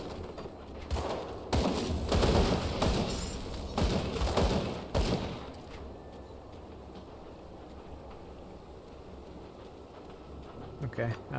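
A burst of heavy thuds and rumbling blasts from a dynamite detonation in Grim Dawn, then a quieter rumbling tail and a faint voice.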